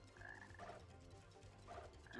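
Frog in Sonic Heroes giving two soft, warbling croaks a second or so apart, faint and alone over a low background hum.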